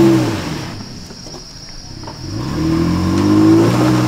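Toyota Tacoma pickup on a night trail ride getting stuck, its engine revving hard with rising and falling pitch from wheelspin, close and loud, with insects chirping faintly in the background.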